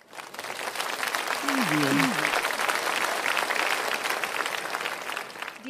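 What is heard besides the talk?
audience applause for the musicians at a school cultural day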